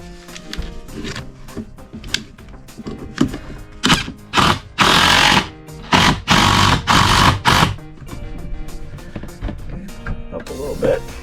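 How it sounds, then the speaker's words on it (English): Power driver sinking screws into a wooden RV bed strut mount, short whirring bursts that stretch into longer loud runs of driving, close by, with someone talking between them. "got our screws, put them in. Let's start them first a little bit here."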